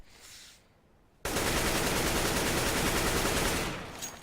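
A rifle sprays a long automatic burst in Counter-Strike: Global Offensive, rapid, loud, continuous gunfire lasting about two seconds after a quiet start, then tapering off.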